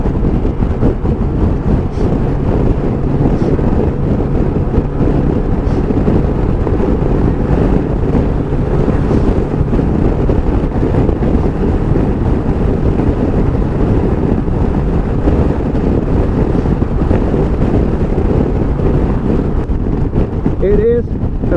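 Wind buffeting a rider on a 2021 Sym Joymax Z+ 125 scooter on a faster road, a steady loud low roar that runs unbroken throughout with no clear breaks.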